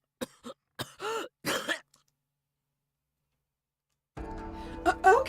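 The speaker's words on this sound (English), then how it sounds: "I heard Okita begin to cough." Several sharp coughs in quick succession from a video game character, then a pause of silence before a louder, strained vocal sound.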